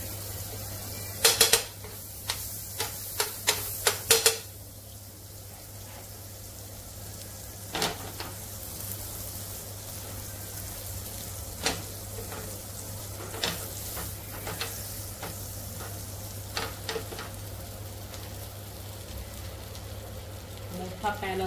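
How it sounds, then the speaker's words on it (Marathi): Butter sizzles softly in a hot pan on a gas flame, a faint steady hiss broken by sharp clinks and clatters of utensils against the pan. "आता बटर घालते."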